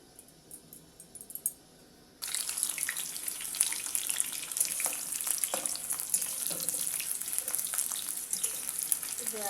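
Potatoes frying in hot oil in a kadhai for a chicken curry, a loud steady sizzle with crackling pops that jumps in abruptly after a quieter start and carries on close up to the end.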